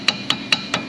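Four evenly spaced sharp metallic hammer blows strike a rusted brake backing plate on a Chevrolet Silverado 5.3, close and moderately loud, each with a short ringing tail.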